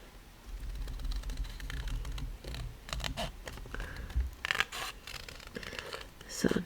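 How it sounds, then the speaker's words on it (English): Tonic snips crunch and clip steadily through a paper craft image during fussy cutting, close up, with small scratchy cuts and a faint low hum underneath. "Now I'm going to pull in my tonic snips"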